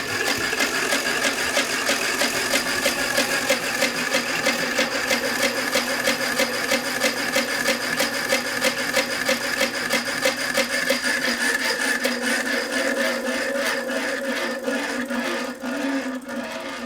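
An arcade twin spin wheel spinning, a loud continuous mechanical whir with rapid clicking ticks that slows and thins toward the end as the wheels wind down, no voices.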